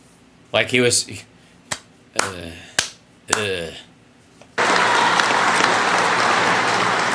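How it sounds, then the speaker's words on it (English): A few slow, separate claps from one person at a political rally, spaced among nearby talk, then a sudden burst of full crowd applause takes over. "this dude's clapping has slowed to a fucking drag"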